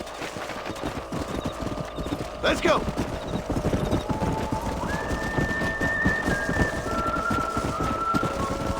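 Horses' hooves clip-clop steadily on hard ground, with a sharp neigh partway through and a siren-like tone underneath; a person briefly speaks over the scene.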